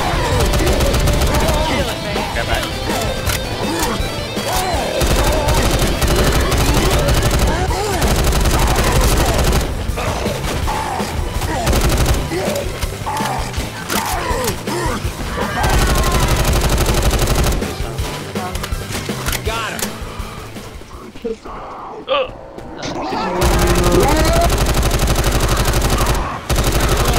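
Nearly nonstop automatic gunfire in the video game Left 4 Dead 2, loud and dense with brief lulls, and voices talking over the shooting.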